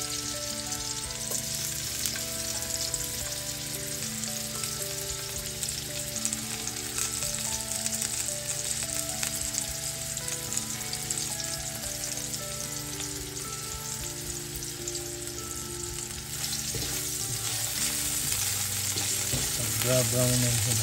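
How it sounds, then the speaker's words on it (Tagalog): Sliced ginger frying in hot oil in a pan for a spicy Filipino blue crab dish, giving a steady loud sizzle that carries through the whole stretch with brief stirring scrapes near the end, no voices. "Brown na siya natin for saute"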